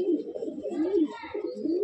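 Andhra pigeons coo inside a loft, giving low, continuous rolling calls close by that rise and fall in a wavering pattern throughout.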